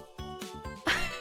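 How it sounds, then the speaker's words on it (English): A cat named Tora gives a series of rough, broken meows, several short cries in a row with the last one loudest, set against a steady faint background tone. "like the most broken meows I've ever heard in my life"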